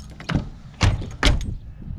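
Car door of a 1989 Pontiac Firebird being unlocked with a key and opened, giving three distinct close clunks and clicks spaced about half a second apart, with faint rattling in between.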